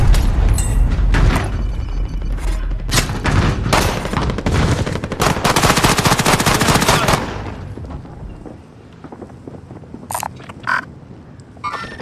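Gunfire in Call of Duty: Warzone, dense bursts of automatic shots and booming single shots rattle loudly for about seven seconds, then give way to quieter, scattered distant shots.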